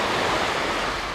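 Sea surf at Jomtien beach on a warm day, a steady broadband wash of gentle waves with light wind noise, fairly loud and continuous without talk.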